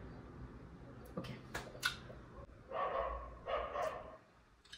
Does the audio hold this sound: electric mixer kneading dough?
no